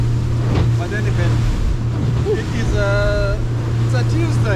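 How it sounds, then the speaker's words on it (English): Fishing boat engines drone steadily at sea off Puerto Vallarta, Mexico, a low constant hum beneath wind and water, with people talking over it throughout. "because of all the noise of the engines"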